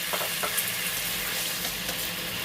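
Onion paste frying in a pan with a little water added, stirred as it cooks, giving a steady close sizzle with soft scraping strokes throughout.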